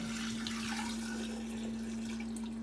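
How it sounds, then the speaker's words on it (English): Water draining from soaked sea moss pours steadily into a sink, a continuous near wash of running liquid that holds level for the whole stretch, alone with no voices. "Now what you want to do is, you want to go ahead and drain the water."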